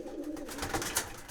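Racing pigeons coo in a loft, a soft, close, throaty burbling that rolls on without pause over a short moment, with no voices present.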